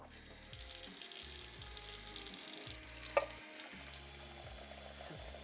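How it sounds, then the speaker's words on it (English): Boiling hot water pours into a pan holding salmon and dry sake. It makes a steady, low, quiet rushing splash with a faint sizzle underneath and one brief clink partway through. "And then I'm going to add some boiling hot water."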